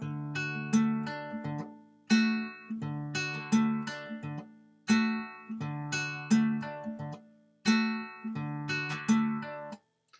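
Fingerpicked acoustic guitar in a Travis picking pattern, one short measure looped over and over, with a steady alternating bass under ringing treble notes. It plays clearly and alone, with the phrase restarting about every 2.5 seconds.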